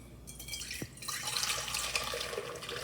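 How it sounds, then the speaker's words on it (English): A yeast and water mixture is poured into a stand mixer bowl, giving a steady close liquid splash and trickle that runs throughout without speech. "So now I'm going to pour my yeast and water mixture into"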